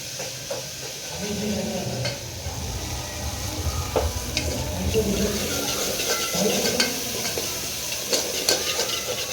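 Green pigeon pea pods being sautéed in hot oil with coriander powder, red chili and turmeric, giving a steady sizzle with stirring clatter and occasional utensil clicks, close and continuous.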